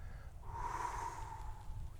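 A long, drawn-out exhale during a breathing exercise, a soft airy rush of breath lasting about a second and a half, close and fairly quiet over a low background rumble.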